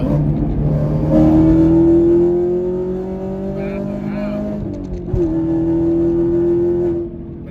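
A Camaro SS 1LE on Nankang AR-1 semi-slick tires accelerates hard through two long gear pulls, its engine note climbing loud and close with a brief break between shifts.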